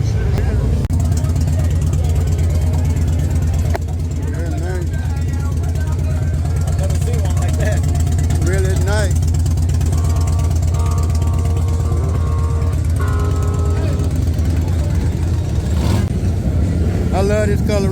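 Custom motorcycle with 26-inch rim and blue paint at the Lone Star Rally, its engine rumbling steadily and loudly throughout amid a busy outdoor crowd, with people talking nearby.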